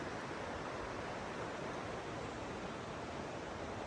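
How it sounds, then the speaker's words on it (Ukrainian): A river near Yaremche rushes in a dense, constant roar of water, steady and full without pauses or any voices. "Просто стояти і слухати шум води."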